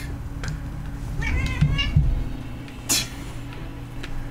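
A cat meows a few times nearby over a steady low game hum, short rising cries around the middle, no one talking.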